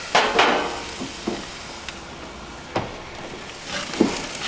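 Frozen steak flipped on a hot grill: sharp metallic clanks and taps of tongs at scattered moments over a soft, steady sizzle, with no talking.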